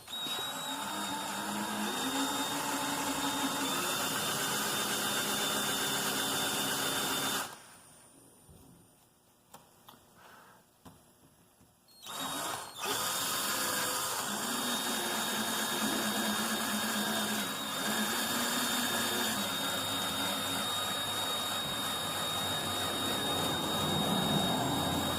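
Power drill drilling out a part on a Subaru Legacy during an EJ20X engine swap, a steady high whine running at a slow, controlled pace, briefly stopping for a few seconds midway before starting again.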